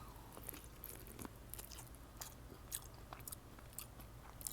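Quiet, close-up chewing of corn on the cob slathered in garlic butter, with soft wet bites and faint crunches repeating over a low steady background hum.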